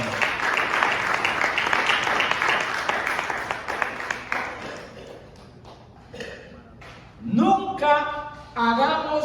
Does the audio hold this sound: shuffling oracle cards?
no